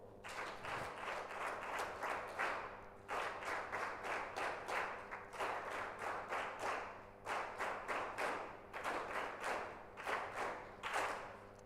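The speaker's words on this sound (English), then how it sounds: "So let's do the 7 clap." A group of university students clapping together in a rhythmic pattern, repeated bursts of seven quick claps separated by short pauses, loud and close in a room.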